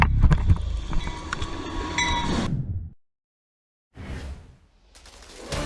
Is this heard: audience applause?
no